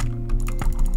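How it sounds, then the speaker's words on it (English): Computer keyboard keys tapped in quick, irregular clicks close to the microphone during a Hypixel Bridge Minecraft session, loud and alone without speech. "So like my mouse sounds and keyboard sounds will pretty much always be pretty loud."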